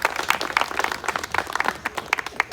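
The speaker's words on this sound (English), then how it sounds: "Give yourselves a round of applause." Scattered clapping from a concert crowd at a live show, moderately loud with uneven individual claps rather than a dense roar, briefly filling the moment.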